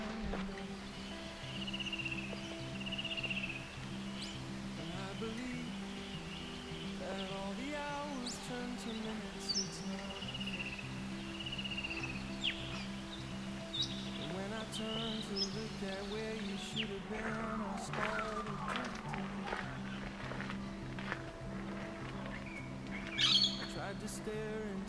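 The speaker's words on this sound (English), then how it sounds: "it's normally around 6:30 the head torch comes off, or it gets turned off, and the birds come alive" Birds come alive at dawn along the Bibbulmun Track, with scattered, fairly faint chirps and tweets over a steady low tonal background for about twenty-five seconds.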